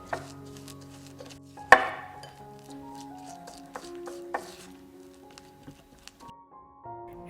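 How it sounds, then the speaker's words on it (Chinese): Softened butter is worked together with powdered sugar in a bowl, giving soft scraping and tapping strokes with a sharp clack near the start and scattered knocks of the utensil, quiet and close. "混合搅匀"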